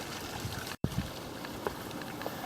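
Small creek flowing beside a flagstone path at a house exterior, a faint steady trickle of water with a brief dropout and a couple of soft splashy accents.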